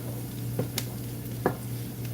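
Turkey sausage sizzling in a pan, a soft steady crackle with a low hum beneath and a few brief stirring clicks and scrapes.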